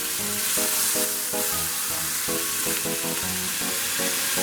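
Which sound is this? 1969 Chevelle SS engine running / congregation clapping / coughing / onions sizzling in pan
onions sizzling in pan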